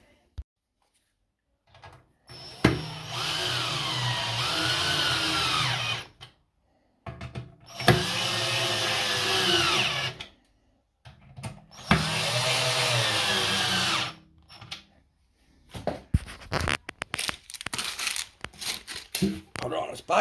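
A power drill drives screws into a B&Q kitchen drawer in three long whirring bursts, each several seconds with rising and falling motor pitch, followed by scattered clicks and handling knocks.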